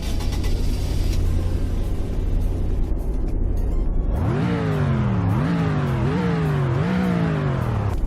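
Police car engine in Roblox Greenville, idling as a low hum before revving up loudly in several rising and falling surges as the car accelerates through gears.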